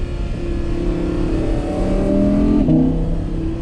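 An Audi R8 V10 Performance quattro Spyder engine revs hard toward its 8700 rpm limit, a loud, close, sustained high-pitched wail with shifting tones.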